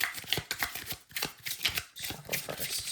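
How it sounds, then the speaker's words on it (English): A mini Lightseer Tarot card deck shuffled by hand, with repeated soft riffling bursts of card against card in close, continuous rhythm. "And put that back and shuffle."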